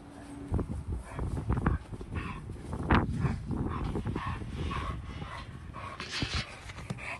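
Dogs at a dog park pant, whimper and give occasional barks close by, with a sharper outburst midway and rustling movement throughout, no voices.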